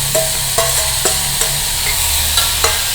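Onion and tomato sauté in a pan with a soft sizzle, punctuated by regular scraping and tapping strokes of a spatula stirring roughly every half second.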